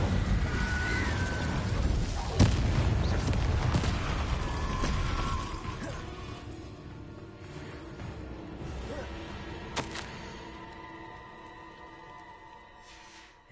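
Spell blasts from Confringo and Incendio in Hogwarts Legacy, a run of booming bursts and crackling impacts layered over game ambience, loudest at the start and tapering off, with sharp pops around the middle.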